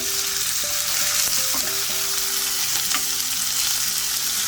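Minced mutton frying with onion in a pan, a constant loud hiss and sizzle with occasional stirring scrapes and faint background tones, no talking.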